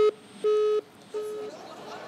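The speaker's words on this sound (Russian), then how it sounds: "Видимо, звонок сорвался." A busy tone breaks in on a call-in line during a live televised question-and-answer broadcast after the call drops, sounding as three clear, evenly pitched beeps with short gaps, the last one fading into faint background noise.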